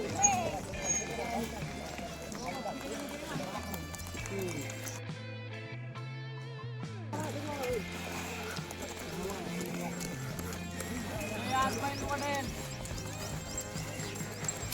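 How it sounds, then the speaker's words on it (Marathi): Bulls' hooves clop on a village road while their neck bells jingle during the Pande Bagad Yatra festival, a steady rhythmic clatter mixed with music and voices throughout. "बैलांच्या पावलामुळे रस्त्यावर होणारा आवाज आणि गळ्यातील घंटेचा आवाज"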